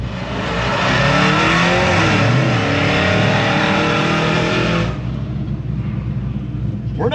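A classic Chevrolet C10 truck at a Texas truck show runs loud and close, its V8-style roar rising through a few revs before settling into a lower rumble.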